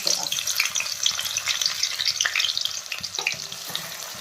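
Onions fry in hot mustard oil with a loud, dense, continuous sizzle and crackle close by, broken by scraping stirs in the pan, and no talking.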